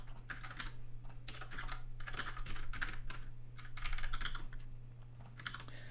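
Fingers type on a computer keyboard in quick irregular bursts of clicking keystrokes with short pauses between, fairly close and quiet over a constant low electrical hum.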